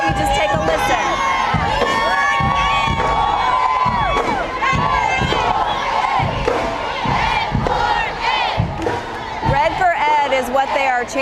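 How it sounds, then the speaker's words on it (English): A large crowd of teachers at a downtown Raleigh rally chants and shouts in loud rhythmic bursts, voices massed and close, with cheers and whoops rising over the sustained din. "But here's the crowd. I'm going to let you just take a listen."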